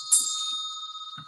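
A bell rings with a bright, sustained metallic tone after a single strike, humming steadily as it fades, fairly close and heard alone.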